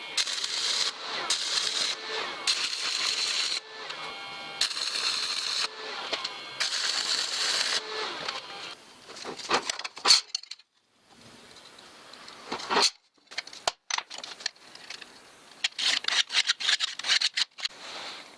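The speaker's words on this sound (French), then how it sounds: "ma perceuse fait toujours un bruit pourri, hein. C'est la courroie qui est pourrie, qui est abîmée" A drill press runs with a worn, damaged belt, giving a harsh rubbing, rasping drone that rises and drops in uneven bursts with sharp clicks and brief pauses, close and fairly loud.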